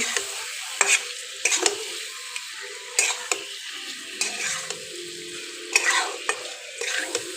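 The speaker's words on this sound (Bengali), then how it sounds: "শুকনো লঙ্কা গুঁড়ো এখন আমি ভালো করে কষাতে থাকবো ভাজতে থাকবো" Chicken coated in dry chili powder stirred and fried in a pan on an electric heater, with a steady sizzle broken by repeated sharp scrapes of a spoon against the pan, close and fairly loud, with no talk.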